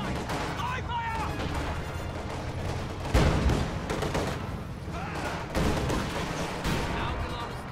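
Dense gunfire and bursts of automatic weapons from a World War II strategy video game battle with T-34 tanks, continuous and loud with a few heavier impacts, while a voice speaks over it.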